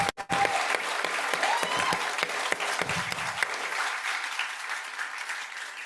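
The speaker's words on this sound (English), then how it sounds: "just give them all a big round of applause for all the work that they've done to get here" Clapping from an audience at a small business pitch competition starts with a few sharp claps and swells into sustained, fairly loud applause that gradually thins toward the end.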